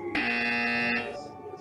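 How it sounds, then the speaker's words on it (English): A game show buzzer sounds during a Harry Potter trivia quiz, one loud, harsh, steady electronic tone near the mic lasting just under a second, then a trailing echo with faint talk. "you press the buzzer first"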